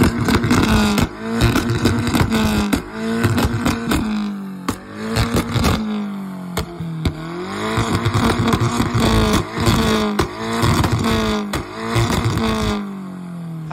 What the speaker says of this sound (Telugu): వెనకాల పాప్స్ అండ్ బ్యాంగ్స్ వస్తాయి